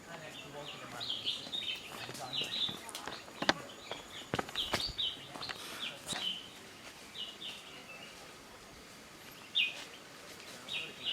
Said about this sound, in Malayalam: കിളികളെയൊക്കെ ശബ്ദം കേൾക്കാം.